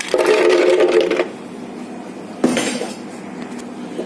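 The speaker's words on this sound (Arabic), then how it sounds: "وهنحط في معيار كوبايه كبيره تكون مليانه تلج" Clattering clinks of ice dropping into a cup, a dense burst for about a second, then a second sharper clink and a short rattle, close up.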